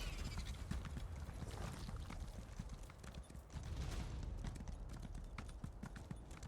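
A horse's hooves clip-clop steadily in Elder Scrolls Online, a fast, continuous gallop of dull thuds, fairly close and even, with no speech over it.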